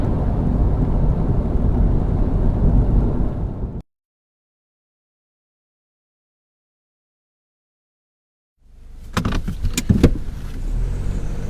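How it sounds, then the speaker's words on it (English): A Mazda BT-50 bakkie travels a bumpy gravel forest road with a loud, steady road rumble and cabin rattles, broken by several seconds of complete silence before the rumbling returns with sharp clunks. "Some bumpy old roads. Everything's rattling around."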